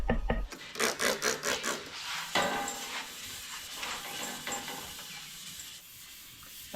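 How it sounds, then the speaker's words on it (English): Rusted metal parts being scuffed inside with an abrasive, a series of rhythmic rasping strokes at first, then softer irregular scraping that tapers off, fairly close and with no talking. "I want to scuff up the insides of these"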